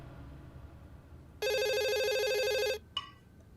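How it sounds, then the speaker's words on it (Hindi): A telephone rings in a loud, continuous electronic burst of about a second and a half, followed by a brief shorter chirp, with no talking over it. "ले फिर आ गया फोन।"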